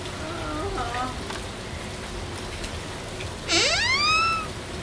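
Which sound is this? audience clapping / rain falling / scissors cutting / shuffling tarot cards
rain falling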